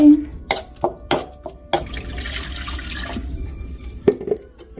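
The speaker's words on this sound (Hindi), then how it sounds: "और इसको मिक्स करने के बाद इसमें पानी डाल देंगे।" Water poured into a pan of spinach curry during home cooking, with a short splashing pour among clinks and knocks of utensils, close and moderately loud.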